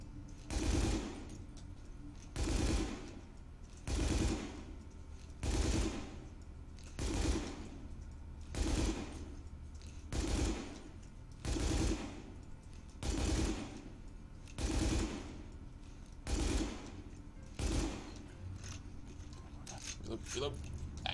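Primary weapon fire in The Division video game, with a steady rhythm of short bursts repeating about every second and a half, each a clipped rattle over a low, constant background hum.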